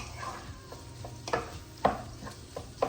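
Ground beef and eggs being stirred in a hot pan, with a low sizzle underneath and a series of distinct scraping strokes at uneven intervals, several of them sharper and louder, and no voices.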